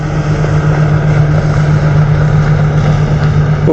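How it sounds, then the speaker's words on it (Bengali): An Indian border patrol speedboat runs on the river at the India–Bangladesh border, its loud outboard engine droning in a steady, low throbbing hum that stays strong and close for the whole moment. "আমাদের ইন্ডিয়ার যে রাউন্ড হয় না স্পিডবোট করে ওই স্পিডবোটে রাউন্ড করছে ওই দেখো দূরে যাচ্ছে"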